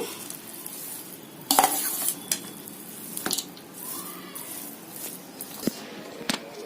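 Tamarind rice (pulihora) is mixed by hand in a wide vessel, giving soft, moist stirring and squishing with a few sharper scrapes and clinks against the pot, steady and close, with no voices.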